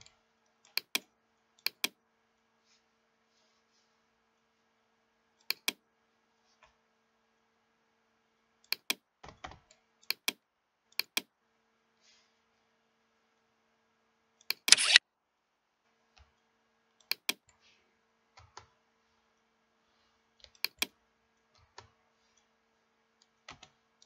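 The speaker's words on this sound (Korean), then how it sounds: "잘라 봅시다." Scissors cutting through a paper skirt pattern, heard as sparse, sharp snips and clicks spaced irregularly over quiet, with one louder rustling cut near the middle.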